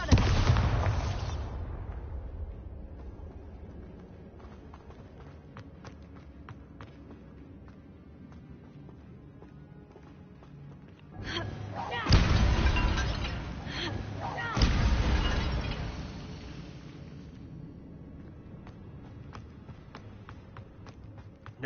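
Confringo and Bombarda spell blasts from the Hogwarts Legacy video game go off as loud booming explosions, one heavy burst at the start and two more close together later, with quieter rumbling between.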